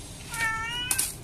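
A single drawn-out meow from Meowme, a pet cat, close and clear, followed by a couple of soft clicks.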